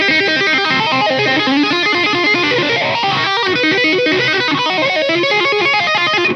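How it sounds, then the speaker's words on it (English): An electric guitar plays dense, driven riffing through an MXR Phase 90 block logo phaser pedal, its sweeping whoosh rolling through the sustained, distorted tone, loud and continuous without talk. "Is what it says on the tin. It's a phaser."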